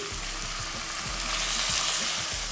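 Garlic, onion and tomato fry in olive oil in a pan, giving a dense, close sizzle with small pops and crackles that runs steadily and alone.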